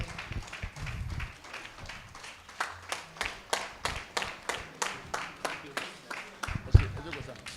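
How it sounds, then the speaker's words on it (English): Rhythmic applause for the Lagos APC State Chairman at a political mobilization event: steady, evenly spaced claps, about two per second, fairly close and moderately loud, with one sharper thump near the end. "A round of applause, please, sir."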